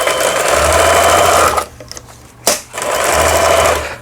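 A Korean-made Lion home sewing machine, about twenty years old and recently repaired, stitches straight seams in a loud steady whir that stops briefly midway and then resumes.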